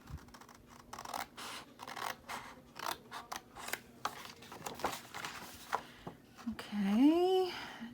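Scissors snip milk carton squares up to a scored line, a quick run of crisp, close cuts in an uneven rhythm, with a brief voiced sound rising near the end.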